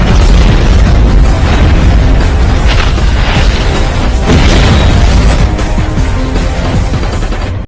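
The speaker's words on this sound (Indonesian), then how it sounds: "Dan kapal itu pun meledak." A ship blows up in an Indian action film with a loud, close explosion, a roaring, rumbling blast that fills the whole stretch and fades only slightly at the very end.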